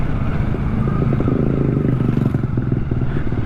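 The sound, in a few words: Kawasaki Ninja 650 motorcycle engine revving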